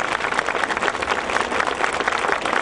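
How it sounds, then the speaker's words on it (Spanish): Steady, dense applause from a ceremonial crowd honoring the provincial mayor of Camaná at a swearing-in event, loud and continuous throughout with no speech over it. "Fuertes y cariñosos aplausos."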